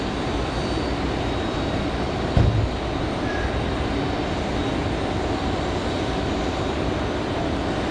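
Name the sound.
Delta airliner arriving, flight from LAX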